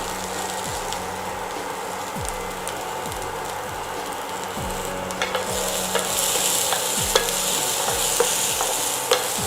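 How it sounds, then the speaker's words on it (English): Sprouts and corn sauté in a pan with a constant crackling sizzle. A spatula scrapes at a regular rhythm throughout, and the hiss grows brighter and louder partway through. "Keep sauteing it for around 10 minutes till the sprouts and the corn are well cooked"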